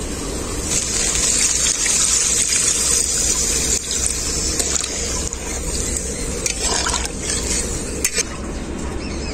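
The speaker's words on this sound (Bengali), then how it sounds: "এখন আমি এর মধ্যে দিয়ে দেব জল।" Water poured into a pan of taro curry cooking with spices, a continuous gushing and stirring wash, close and fairly loud, with no talk.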